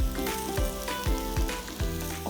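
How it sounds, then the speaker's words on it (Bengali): Rice fries with sausage and mixed vegetables in a hot pan for sausage vegetable fried rice, a dense continuous sizzle broken by repeated rhythmic scraping strokes of a spatula, loud and close. "রাইসটা দিয়ে ভালো ভালো একদম খুব ভালো করে ভাজা ভাজা করব"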